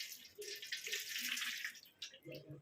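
Water is poured over a hand to test natural black hair dye, giving a close, soft splashing trickle that comes in short bursts and pauses, quiet and with no talking.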